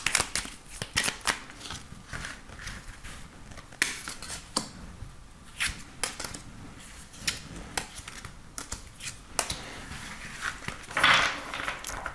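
Tarot cards are shuffled for a reading, making a quick series of soft, close riffling and slapping clicks that come in irregular bursts with no talking.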